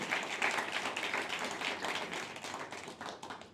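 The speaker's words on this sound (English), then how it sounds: "another round of applause for Guy for both his performance" A small audience at a piano recital claps in a fairly close, even round of applause that stays steady and tapers slightly at the end.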